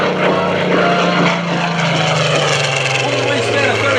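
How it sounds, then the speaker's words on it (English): A Spitfire's propeller engine drones steadily as the aircraft flies past at an airshow, loud and continuous with a slowly falling pitch, while an announcer talks over it. "by a Spitfire aircraft"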